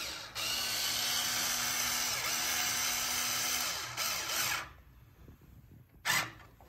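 A power drill drives a screw into a handmade wooden cradle, whirring steadily for about four seconds with a brief dip in pitch, then stopping, followed by a short final burst.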